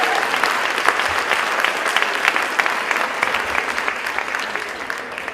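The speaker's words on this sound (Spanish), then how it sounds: "Así que fuerte el aplauso." Strong audience applause for a speaker at an autism conference, dense and steady clapping from a full room, close and loud throughout with no letup.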